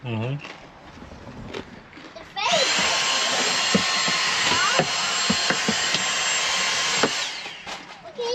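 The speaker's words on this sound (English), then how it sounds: "This is why you always travel with a vacuum cleaner." A vacuum cleaner starts up with a loud steady whine and roars for several seconds before switching off, with a voice heard before and under it.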